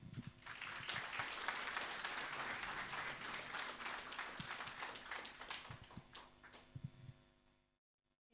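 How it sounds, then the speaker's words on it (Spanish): Applause from a church congregation at a Sunday service fills the space, a dense steady clatter of many hands lasting several seconds before cutting off abruptly. "vamos a recibir, ¿no? A la hermana Rebeca con fuertes aplausos"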